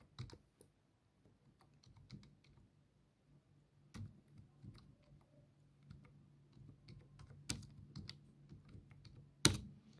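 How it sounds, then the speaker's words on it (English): Computer keyboard typing, with quiet irregular key clicks spread across a short burst of entering text and a louder click near the end; no speech. "So I am going to actually type bright name here."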